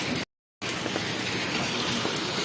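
Heavy rain pours over a village in a steady, dense hiss that fills the whole clip, briefly cut to silence near the start, with no voices.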